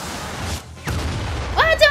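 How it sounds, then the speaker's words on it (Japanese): A steam explosion attack in the Super Mario RPG remake, heard as a short burst of game effects with a rumbling blast and bright rising magical tones at the end, while a voice talks over it. "で、水蒸気爆発。"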